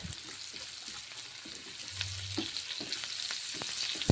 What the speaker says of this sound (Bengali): পেঁয়াজ এবং পোস্ত ভেজে নিচ্ছি